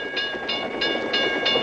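A cartoon subway train rumbles past in a steady low roar, with rhythmic wheel clatter bursts repeating every few tenths of a second, fairly loud and with no talk.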